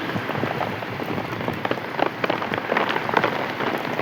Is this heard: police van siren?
no